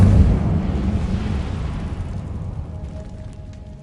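Incendio, a fire spell cast in Hogwarts Legacy, bursts with a loud, close whoosh and boom that rumbles and fades over a few seconds, with no voices.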